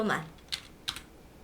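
Computer keyboard in a Photoshop exam task, keys pressed for a paste shortcut: a few sharp, isolated clicks spaced apart, near and fairly quiet, after a brief bit of voice at the start.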